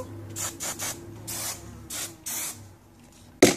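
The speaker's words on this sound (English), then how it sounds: "so we do a little bit more spray," Short bursts of hairspray hiss over a hair updo, about six spaced sprays of varying length, close and fairly soft, with no talking.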